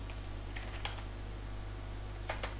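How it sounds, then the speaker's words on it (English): A handful of faint, scattered keystrokes on a computer keyboard, a couple of quick taps early and a close pair near the end, over a steady low electrical hum. "So let me type okay sign language"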